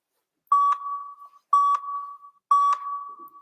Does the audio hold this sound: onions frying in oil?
no